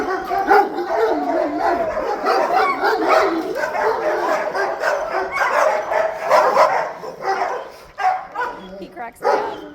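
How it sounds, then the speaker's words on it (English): Dogs bark, yip, howl and whimper in shelter kennels, a dense and loud overlapping chorus in an echoing room, with a person's voice partly blended in. "There's gonna be a lot of barking, a lot of kennel reactivity."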